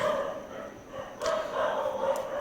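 A dog barks and yips in the background indoors, with repeated short calls spread over a couple of seconds, moderately loud over a steady room noise.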